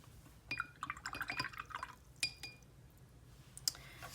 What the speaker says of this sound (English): you can even splatter the metallic paint too